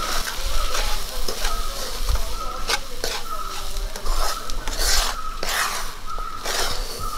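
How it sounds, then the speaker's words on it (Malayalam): A spoon scrapes and stirs dry rava (semolina) in a hot pan for Kerala-style upma, producing repeated close scraping strokes with light metallic clinks over a soft steady sizzle. "ഇളക്കി കൊടുക്കാം."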